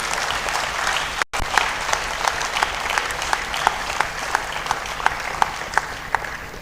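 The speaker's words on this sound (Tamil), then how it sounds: "அப்படிப்பட்ட ஜஸ்டிஸ் எம்எஸ் ரமேஷ் சார் அவர்களுக்கு ஒரு மிக மிக மிக பலத்த கைத்தட்டல்கள்." Audience applause at a souvenir and website launch event honoring a judge, a steady wash of many hands clapping with a brief dropout early on, fairly loud and continuous throughout.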